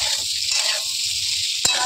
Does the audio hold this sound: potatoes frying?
yes